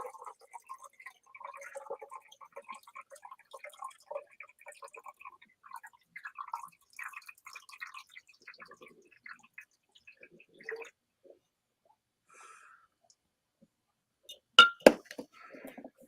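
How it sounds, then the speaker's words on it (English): Settled salt water poured back into a glass reaction jar: a long run of soft, quiet trickling and dripping with faint glassy clinks, then a brief louder pair of glass knocks near the end. "I will pour the settled salt water back into the original reaction jar so that it will start making some more"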